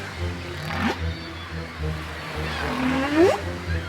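Deep, drawn-out whale calls sweep and glide upward in pitch, one short moan early and a longer rising cry later, heard over a low steady rumble as a narrated sound effect of whales far below an aircraft over the Atlantic.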